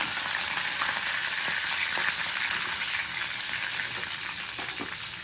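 Curry leaves crackle and sizzle in hot tempering oil for mango coconut chutney, a steady close hiss with scattered pops running throughout, no voices over it.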